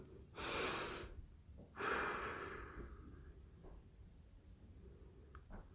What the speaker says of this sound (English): Take a nice deep breath.